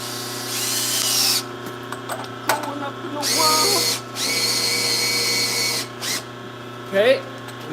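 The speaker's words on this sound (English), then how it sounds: "This fucking drill is about had it." A worn-out power drill runs in several short whirring bursts, loud and close, with a rough, uneven whine. People talk between and over the bursts.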